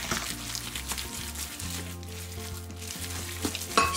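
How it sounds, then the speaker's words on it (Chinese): Minced beef filling for small buns, mixed with added water, is churned quickly by hand in a counterclockwise motion, a close, continuous wet squelching and slapping. "每加一次水都要用手搅拌馅料，按逆时针方向快速搅打"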